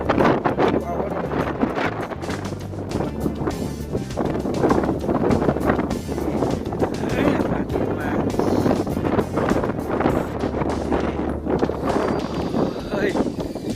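Strong wind at Noen Chang Suek buffets the microphone in a loud, continuous roar with gusting surges and rustling leaves, steady throughout with no clear talk.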